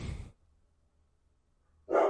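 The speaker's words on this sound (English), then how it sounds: "Dog barky bark." A dog barks indoors, one short bark at the start and another loud bark about two seconds later, with near silence between them.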